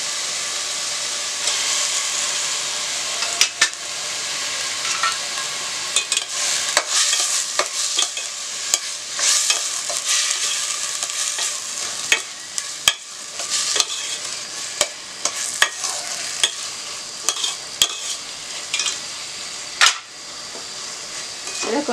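Steady sizzling of masala and tomato frying in oil in a pan, with occasional sharp stirring scrapes and clinks, fairly close and continuous.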